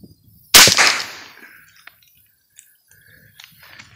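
A single sharp rifle shot fired at Asian carp in the water, a loud close crack with a short decaying tail, followed by faint clicks and quiet ambient sound.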